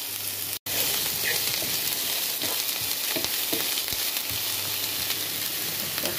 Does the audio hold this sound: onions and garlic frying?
yes